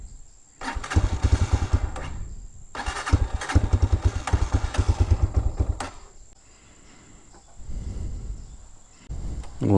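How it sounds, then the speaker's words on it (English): A carbureted 2023 Hawk-X 250 motorcycle engine cranks and catches in repeated bursts of loud, close chugging, stalls, then restarts and idles roughly, with no talking. "Let's see if it starts without a choke. Oh, it does. Let's see if I can keep it running now."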